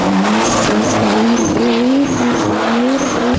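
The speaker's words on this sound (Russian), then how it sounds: "нас уже тут развернуло, то есть меня развернуло, Серега не засейвил и въехал мне в колесо" A drift car skids around a race track, its tires squealing continuously over a loud, wavering engine drone that rises and falls with throttle, close and with no talk.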